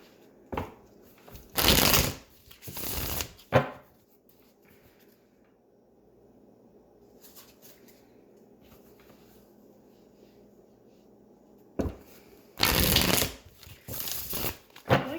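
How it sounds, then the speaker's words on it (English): A deck of tarot cards is shuffled in three distinct bursts, two close together early and a longer riffle near the end, loud and crisp against near silence. "3 shuffles, and then I'll cut the deck."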